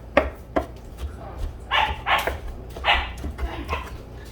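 A puppy gives several short, sharp barks and yips at close range, scattered irregularly across a few seconds in a kitchen where a holiday hamburger meal is being cooked.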